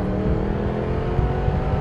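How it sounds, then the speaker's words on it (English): A 2023 Triumph Tiger 1200 GT Explorer motorcycle engine runs steadily, with a deep, close, continuous rumble and a smooth, even drone throughout and no talking. "And the noise of that engine is just superb."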